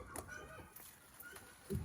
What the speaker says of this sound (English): Oh, the chickens are going crazy.